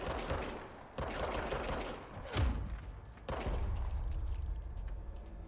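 Gunfire in the action game Control arrives as dense, sustained bursts of shots with a heavy thump in the middle, loud and close, with no talking over it.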